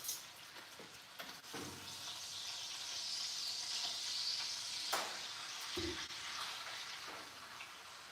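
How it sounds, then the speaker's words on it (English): Pork tenderloin sizzling and searing in a hot frying pan, a continuous crackling hiss with occasional clinks and scrapes of a utensil. "We're just getting a sear on that meat."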